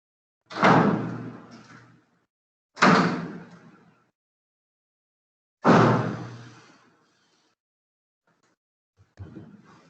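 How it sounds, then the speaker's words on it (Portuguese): Doors are shut one after another indoors: three loud, distinct slams spaced a couple of seconds apart, each with a short fading rattle, then a softer bump at the end, with no talking. "tive que fechar as portas todas"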